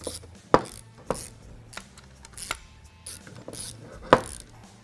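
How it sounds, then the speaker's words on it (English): Hardware is run in tight with a T25 Torx bit and an 8 mm socket while fitting an air chuck conversion kit, giving quiet ratcheting and several sharp, spaced clicks and knocks, close up with no talk. "Then we're going to grab a T25 Torx bit and an 8 mil socket and run all our hardware in tight."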